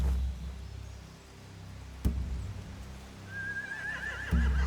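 In The Walking Dead video game, horses whinny a couple of times over soft hoof clatter and a few sharp knocks, followed by a faint warbling whistle.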